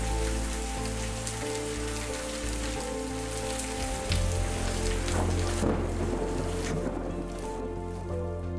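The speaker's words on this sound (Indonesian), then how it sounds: "seperti ini kalau sedang turun hujan" Steady rain pours down onto roofs and into a gutter feeding a vertical drainage system, a dense continuous hiss with splashing water that swells slightly louder midway, no voices.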